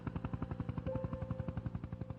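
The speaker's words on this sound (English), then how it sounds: "out of nowhere, the helicopter appeared" A rescue helicopter's rotor beats rapidly and steadily in high winds on the Matterhorn, a loud, close, pulsing chop with no talk.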